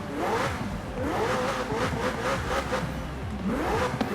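A McLaren 600LT in Forza Horizon 4 revs hard in repeated rising and falling sweeps, loud and close, with exhaust pops between pulls and no talking.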